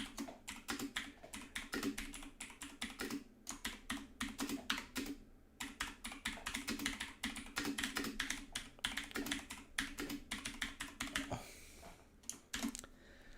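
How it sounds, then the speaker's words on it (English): Rapid, loud clatter of keys on a computer keyboard, typed continuously in quick bursts with brief pauses, close up. "Get ready for some very, very loud typing."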